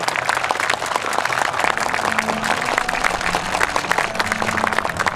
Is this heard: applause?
yes